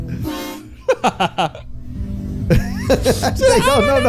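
Short, blaring air horn blasts sound in quick bursts, then longer honks, with voices mixed in around them.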